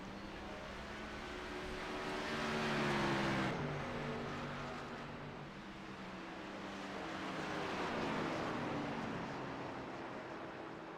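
A race car slides sideways at Gateway in an Xfinity Series racing game, engine drone rising and falling in two broad swells with shifting tonal whine, moderately distant and without talk.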